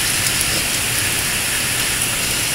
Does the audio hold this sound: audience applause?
no